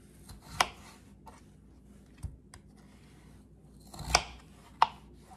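A knife cuts bangers (sausages) in half on a board, giving a few sharp, close chops spaced irregularly with quiet pauses between them, and no voices.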